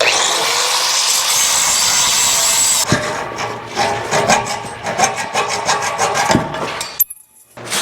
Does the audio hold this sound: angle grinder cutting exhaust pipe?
yes